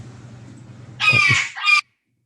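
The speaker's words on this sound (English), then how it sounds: "That's my bird." A pet bird gives a loud, close call in two short bursts, first a longer harsh cry and then a brief one, after a faint low hum with nothing else heard.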